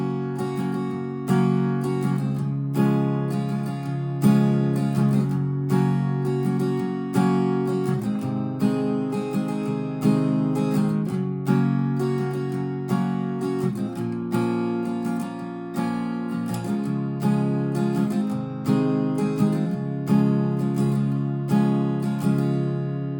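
Acoustic guitar strumming the bridge chords of a country song in a steady, even rhythm, strums rolling continuously and close for over twenty seconds with no talking.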